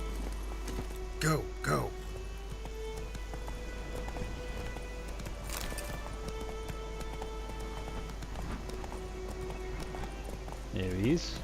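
A horse gallops in the video game Witcher 3, a quiet steady clip-clop of hooves under a constant low hum, with a couple of short spoken urgings over it.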